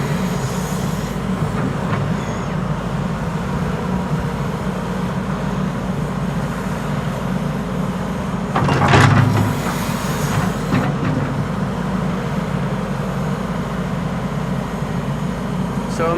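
A Corendon Airbus A350 widebody arriving on the Polderbaan runway at Schiphol: a loud, steady rumbling roar of jet engines throughout, with a brief surge in the middle.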